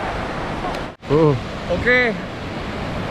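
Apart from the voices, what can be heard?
waves at Ngalur beach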